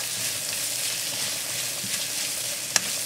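Taro root frying with chili and ginger in a pan gives a steady, close sizzle while being stirred, with a single sharp clink near the end and no voices.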